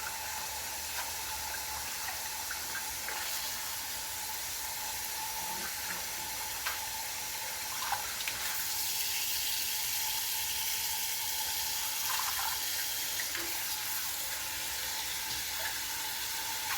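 Collard greens being washed under a running kitchen tap, giving a steady broadband rush of water with faint splashes and clinks throughout, fairly soft and continuous with no talking.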